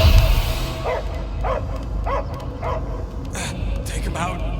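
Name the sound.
dog barking, from the video game Guardians of the Galaxy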